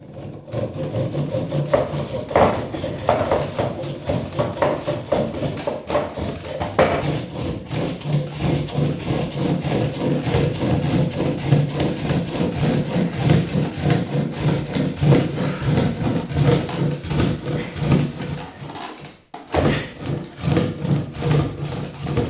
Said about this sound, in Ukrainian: ручна пила. Давайте спробуємо, як ви будете нею пиляти.